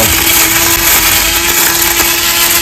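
A rechargeable grass cutting machine runs continuously close by, with a loud, steady motor whine and a constant hum that never lets up.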